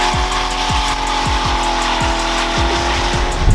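A Corvette doing a burnout at a burnout competition, its engine roaring loud and steady while the rear tires squeal and scrub continuously, with repeated engine pulses across the run.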